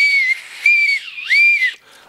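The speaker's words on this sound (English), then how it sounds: "I got your whistle already." A shrill whistle is blown in three sharp blasts, the middle one bending in pitch, loud and close.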